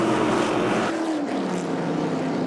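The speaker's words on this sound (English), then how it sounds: "Napa Street Stocks, green flag is out, 25 laps of feature racing." Street stock race cars roar away at the green flag of a 25-lap feature race at Motordrome Speedway, a loud, continuous engine drone with a shifting pitch as the field passes, no talk.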